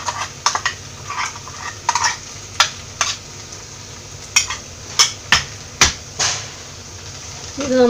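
Breadfruit curry being stirred in a frying pan in a Kerala kitchen, with a string of sharp spoon scrapes and knocks against the pan at an uneven pace over a soft, steady background hiss.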